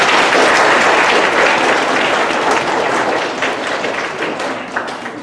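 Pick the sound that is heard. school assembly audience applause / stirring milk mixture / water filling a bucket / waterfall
school assembly audience applause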